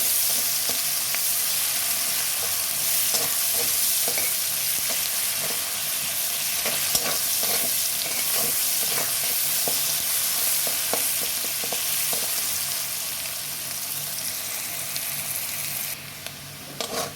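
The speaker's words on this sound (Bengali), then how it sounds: "পেঁয়াজ কুচি লাল লাল ব্রাউন বাদামি করে ভেজে নিই" Chopped onions fry in hot oil for mushroom-free fish curry-style cooking, a steady loud sizzle running throughout with faint intermittent stirring scrapes, close and unbroken by talk.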